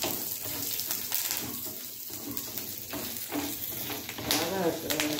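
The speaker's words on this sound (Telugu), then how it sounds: "2 టేబుల్ స్పూన్స్ పచ్చెనపప్పు వేస్తున్నాను అది వేయించుకుందాము" Chana dal and cumin frying in a hot pan, a faint crackling sizzle with scraping and light clinks, heard up close.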